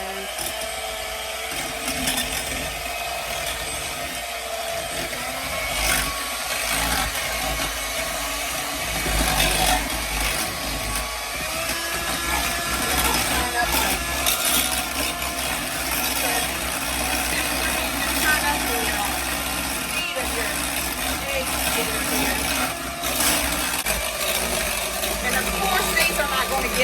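An electric hand mixer whips in a tilted bowl that is spun while mixing, a continuous close motor whine with a scraping rattle running steadily throughout.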